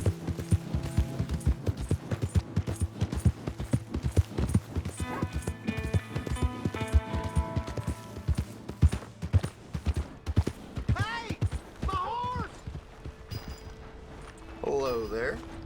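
Horse hooves clip-clopping steadily in the Red Dead Redemption 2 video game, a brisk close rhythm running throughout, with a few whinnies near the end and game dialogue over it.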